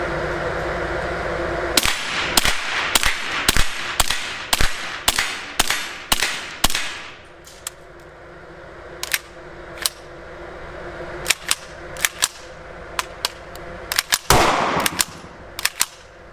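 A Ruger LC Charger pistol firing 62 grain subsonic rounds, a rapid string of about ten sharp close shots followed after a pause by more spaced and clustered reports, loud and distinct with no talking.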